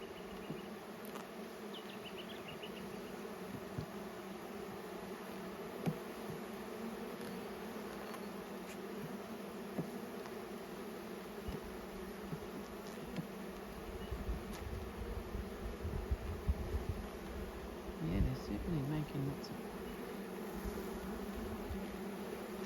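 Honey bees buzz steadily around an opened hive with frames of beeswax, a dense insect drone that stays close and continuous, swelling slightly in the second half.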